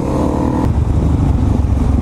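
Supermoto motorcycles ridden in a pack doing wheelies through Los Angeles city streets, a loud continuous engine roar with rising and falling revs and some clatter, close by throughout.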